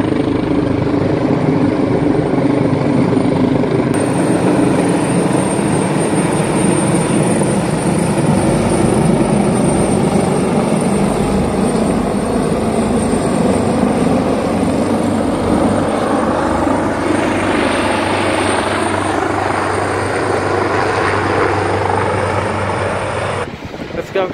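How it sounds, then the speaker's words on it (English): A hospital helicopter roars loudly and steadily overhead in Melbourne, Australia, its thumping rotor and engine whine filling the air without a break. "the helicopter is actually the hospital helicopter"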